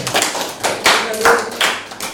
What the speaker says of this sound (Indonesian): kasih tepuk tangan buat April.